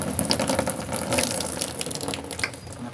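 Water from a broken household faucet gushes and splashes steadily and close by, a continuous hissing rush with small sputters, no voices.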